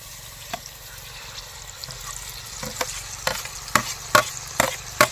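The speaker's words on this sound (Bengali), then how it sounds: "এবার একটু নেড়ে নিই তারপরে দেবো টমেটো বাটাটা" Cauliflower roast frying in a pan with tomato paste, village-style: a low steady sizzle with sparse spoon strokes that grow louder and more frequent toward the end, heard up close without any voices.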